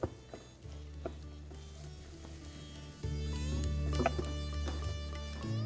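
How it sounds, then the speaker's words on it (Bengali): Garlic paste fries in a pan over a medium flame, giving a soft, steady sizzle with occasional stirring scrapes over a constant low hum. "এরপর ফ্লেমটাকে মিডিয়াম রেখে এটাকে 3 থেকে 4 মিনিট ভালো করে কুক করে নিন, যতক্ষণ না রসুনের কাঁচা গন্ধটা চলে যাচ্ছে।"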